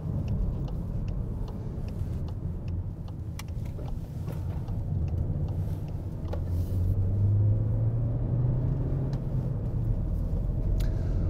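A 2020 Škoda Octavia with the 1.5 TSI petrol engine accelerates while driving, a steady low engine and road rumble inside the car that rises in pitch as the revs climb.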